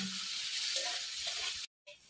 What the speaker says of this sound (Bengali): দেখুন লাল লাল করে ভাজা হয়ে গেছে সোয়াবিনগুলো।